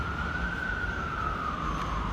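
An ambulance siren wails steadily, a single sustained tone drifting slightly in pitch as it passes, moderately loud over a constant background rumble with no speech.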